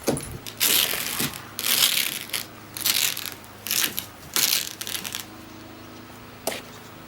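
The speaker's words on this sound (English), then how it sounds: "I'll show you how you roll the cover up and then how you roll it back and fasten it" A Tyger tonneau cover rolls up on a 2019 Dodge Ram 1500 with bursts of rattling, ratcheting mechanical clatter separated by brief quiet gaps, loud and close.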